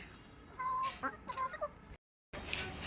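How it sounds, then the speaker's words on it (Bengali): Hens clucking nearby in a coop, with a few short, bright clucks and calls over a quiet background, broken by a brief silent gap. "আর ডাকেও কিন্তু এই মুরগিগুলো"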